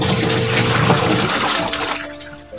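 Water pours in steadily, a loud, continuous rushing splash that fills the space and then tapers off toward the end.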